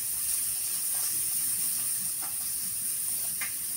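Onions sautéing for a gisado of Indomie noodles give a constant bright hiss of frying, steady and unbroken, with a few faint clicks of stirring.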